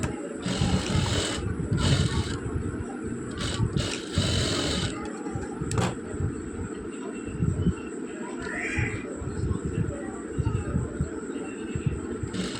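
Sewing machine stitching the shoulder seam of a size 42 nighty, running in bursts of rapid mechanical whirring close by, starting and stopping in uneven spells.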